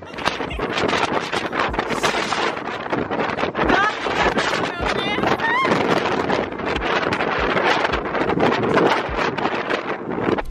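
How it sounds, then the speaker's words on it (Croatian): Strong wind roars across an open ship's deck in a steady, loud broadband rush with gusty swells, and faint voices or whistling tones are partly buried in the noise. "idemo na palubu na kojoj toliko puše"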